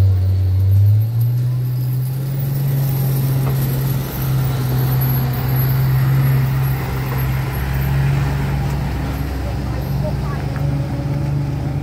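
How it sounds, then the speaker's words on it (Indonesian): A PT Rapi bus being towed uphill on a rough road gives a steady low diesel drone that rises briefly early on and then holds, with distant traffic noise and people talking nearby. "bus PT Rapi melakukan pendakian"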